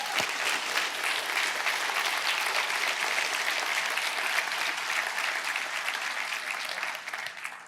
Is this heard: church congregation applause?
yes